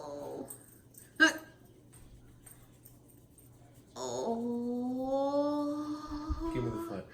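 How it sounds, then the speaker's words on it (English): A small dog making a sharp yip early on, then a drawn-out, rising whine or whimper that continues for several seconds, heard close by in a quiet indoor room. "Show that little dog."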